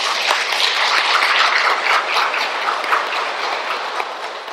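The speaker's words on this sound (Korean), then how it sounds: "우리 모두를 위해 박수 한번 칠까요?" A Catholic congregation in a Daegu parish church applauds after a prayer, with a broad, sustained wash of clapping from many hands that fades slightly toward the end.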